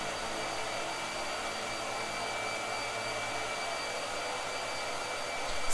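A blow dryer runs indoors with a steady, airy whir that holds constant and close for several seconds, with a brief bump at the end and no talking.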